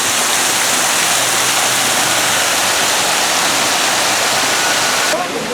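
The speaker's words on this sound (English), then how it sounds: "Some nice looking waterfalls." Waterfalls in the River's Edge area of the Saint Louis Zoo give off a loud, steady rush of falling water that stays constant and unbroken throughout.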